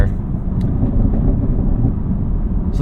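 A 2019 Chevrolet Camaro SS 1LE running in sport exhaust mode, heard from inside the cabin as a deep, continuous low engine and exhaust rumble with a few faint higher ticks.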